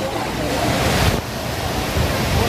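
The Aagayagangai waterfall in the Kolli Hills pours down in a loud, close, continuous roaring rush of falling water and spray, with no speech.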